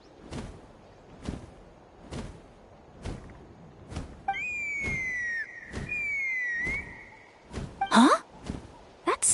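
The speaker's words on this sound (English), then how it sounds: "That sounded like a whistle." A rising whistle in the video game Genshin Impact, a sustained pitched tone lasting a couple of seconds over a steady pattern of regular soft thumps, followed by a brief whooshing burst.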